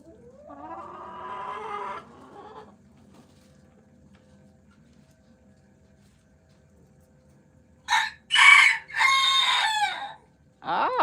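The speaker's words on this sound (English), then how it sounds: "He crowed right for you when I had the camera on him." A pet rooster named Fancy crows near the end, several loud close calls in a row, after an earlier clucking or vocal passage from the backyard coop and a quiet stretch in between.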